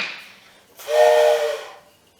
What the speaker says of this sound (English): You know what that sounds like? A train.